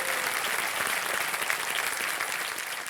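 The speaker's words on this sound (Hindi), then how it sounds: "तालियों के साथ इनका स्वागत" A studio audience on the quiz show KBC applauds a contestant, steady close clapping filling the whole stretch without a break.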